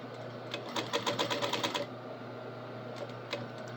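A sewing machine topstitches an apron in a quick burst of rapid, even needle strokes lasting about a second, then falls to a quiet hum with a couple of faint clicks, close and clear.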